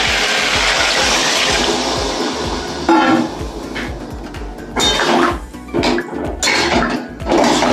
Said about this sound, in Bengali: এবার আমি সেদ্ধ হওয়ার মতো জল দিয়ে দেবো বন্ধুরা।